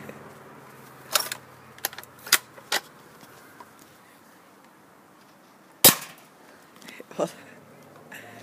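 Several sharp, snappy shots from an M70 BB gun pop at irregular intervals, one much louder than the rest, over a quiet background with faint voices.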